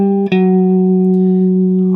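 Electric guitar plays the opening phrase of a riff, a sustained note with a drone ringing beneath it, one pick attack near the start and then steady ringing tone, loud and alone.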